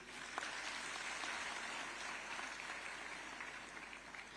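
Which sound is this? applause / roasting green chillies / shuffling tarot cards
applause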